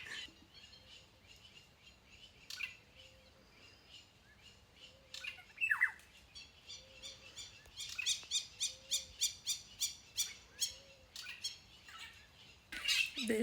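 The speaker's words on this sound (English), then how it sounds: "the birds are singing" Birds singing around a camp in the African bush, a quiet background of chirps breaking into a rapid series of loud, repeated squawking calls near the end, with faint distant calls underneath.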